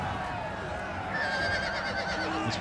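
A wounded horse in the video game Total War Attila whinnies in a strained, wavering cry over a continuous battle din, loud and close.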